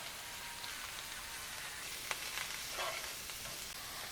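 Vegetables seasoned with salt and black pepper sauté in a pan for sweet and sour chicken, giving a soft, steady sizzle with faint crackles throughout and no talking.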